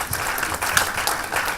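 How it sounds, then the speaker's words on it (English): An audience at an industry forum applauds a morning presenter, with loud, dense clapping sustained across the whole moment and individual hand claps standing out near the front. "please join me in one more round of applause for this morning's presenter"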